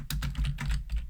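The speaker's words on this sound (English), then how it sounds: "Oh my god, I cannot type today." Fingers tap quickly on a computer keyboard, a close, steady patter of clicky keystrokes in short bursts with no talking over it.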